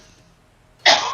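After a stretch of near-silence, a single sudden cough bursts out loud and close near the end, harsh and breathy, with no talk.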